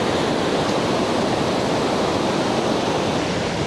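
At a camp in Baler, Aurora, running fresh water flowing where it mixes with the sea makes a dense, continuous, broadband rush, steady and close, with no voices.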